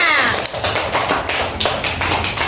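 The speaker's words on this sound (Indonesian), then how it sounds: "Tepuk tangan untuk kelompok 3" Students in an Indonesian classroom give a brief burst of applause for a group: quick, dense clapping from many hands, loud and close, lasting a couple of seconds.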